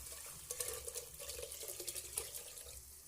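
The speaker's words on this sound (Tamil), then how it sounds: "கொஞ்சம் புளி தண்ணி கூட ஊற்றிக்கலாம், மிக்ஸ் பண்ணி விட்டுக்கலாம்" Tamarind water being poured into a pot of homemade rasam, a steady splashing, trickling liquid stream lasting a few seconds, close by and fairly quiet, with no talking.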